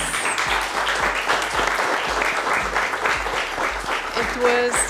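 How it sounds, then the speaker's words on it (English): Steady clapping from an audience at a monthly agile coaching meetup fills the room, with some talking mixed in underneath and a brief tone near the end. "I would like to give again applause to Alexander."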